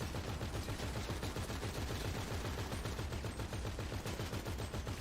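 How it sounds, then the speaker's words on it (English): Gunfire in the Grand Theft Auto 5 video game: a continuous stream of rapid automatic shots, fairly faint and steady over the whole stretch. "I need some really good shooting, George."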